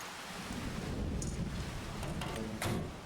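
Steady rain in a farming simulation game, a dense even hiss filling the whole span with a few louder gusts and patters, heard alone without talk.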